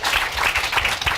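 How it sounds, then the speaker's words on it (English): An audience at a political action event gives a short, dense round of applause, a brief, close wash of clapping hands with no speech over it. "give a round of applause to the people who are watching on the stream"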